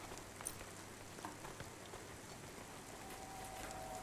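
Rain falls over a restaurant in the video game Cloudpunk, a soft, steady patter with scattered drop hits and a faint tonal hum underneath, fairly quiet throughout.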